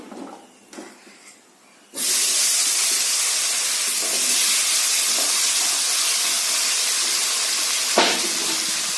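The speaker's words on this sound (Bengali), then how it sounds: "এই তেলের মধ্যে আমি কি করবো এখন, আলুগুলো ভেজে নিই" Potatoes frying in hot oil for a fish-head and jackfruit curry, a quiet start then a sudden loud, steady hiss and sizzle that continues evenly to the end.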